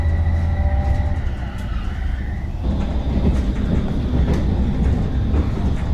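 A train runs on its rails in Bulgaria near the Friendship Bridge to Romania, giving off a steady rumble and rolling wheel noise, with faint tonal whines early on and sharp clicks later.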